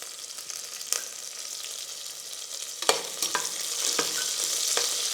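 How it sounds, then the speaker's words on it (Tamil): Cumin seeds sizzle in hot oil, a steady close frying hiss with a few sharp crackles and pops, stirred along the way, with no talk. "சீரகம் சேர்த்துக்கலாம்."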